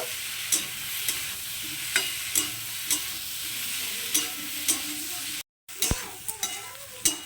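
Pumpkin, potato and raw prawns sauté in a pan with a steady hiss of frying, punctuated by regular clinks and scrapes of a stirring spoon, with a brief pause near the end.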